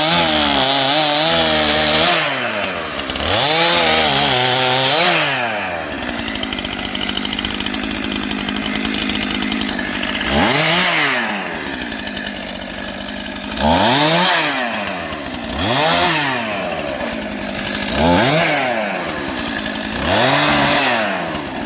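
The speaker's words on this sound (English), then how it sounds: "get some footage of my dad cutting some wood with his chainsaw" Chainsaw bucking firewood outdoors, engine revving up and down repeatedly in rising and falling bursts between cuts, with steady idle stretches between, loud and close, no talk.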